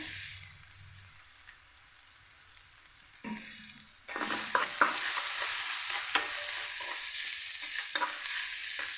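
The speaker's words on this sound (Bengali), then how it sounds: "মশলাটা আমি ভেজে নিচ্ছি।" Spice paste frying and being stirred in hot oil for a Bengali dal and greens dish, soft at first, then a louder steady sizzle with scraping stir strokes from about four seconds on.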